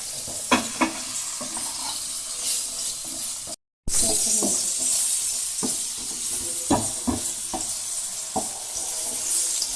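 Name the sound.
frying eggplant in a pan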